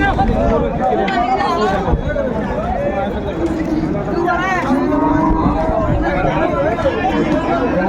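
Shahiwal bulls and other cattle at a busy livestock market in Dinajpur, with loud, continuous lowing and moos from several animals amid crowd chatter and people talking nearby.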